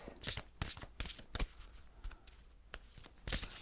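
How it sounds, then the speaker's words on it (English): A deck of Belinda Grace True Love oracle cards is shuffled by hand, giving several bursts of crisp riffling and slapping of cards in quick, uneven rhythm, close and fairly loud, with no talking. "So these are Belinda Grace True Love oracle cards"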